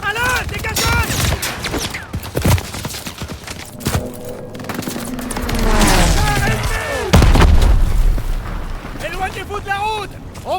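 Anti-aircraft fire in the Call of Duty WWII D-Day campaign: repeated booming bursts and rumbling explosions ring out amid a loud battle din, with soldiers shouting over it throughout.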